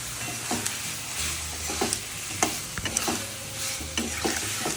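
Potatoes sizzle as they fry in spiced oil for a Bengali dum aloo, with a steady hiss broken by repeated sharp scrapes and clatters of a spatula stirring the pan.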